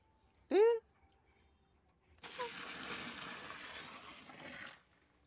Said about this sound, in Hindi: यहाँ पे हम लोग पानी डाल रहे हैं, मिट्टी सब नीचे चल जाएगा इसीलिए डालना पड़ रहा है पानी